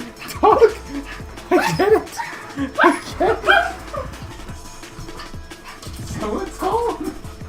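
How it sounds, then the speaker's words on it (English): An excited dog barks, yips and whimpers in quick bursts at close range while a person speaks over the noise. "that's my dog being very excited"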